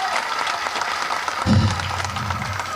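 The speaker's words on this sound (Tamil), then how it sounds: "அவனுக்கு ஒரு பலத்த கரகோஷம் கொடுங்க" A loud burst of crowd applause at a Tamil cinema event, dense steady clapping filling the whole moment, with a low rumble of crowd noise swelling partway through.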